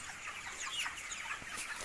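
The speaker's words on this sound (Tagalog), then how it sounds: "Malalaki din ng mga manok." Large chickens on a poultry farm cluck softly in a brief burst of overlapping calls, fairly faint, with no talking.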